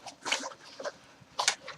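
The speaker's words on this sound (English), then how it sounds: "What do you want? That's my dog." A dog whimpers and whines softly at close range, a few faint, uneven high-pitched cries with short gaps between them.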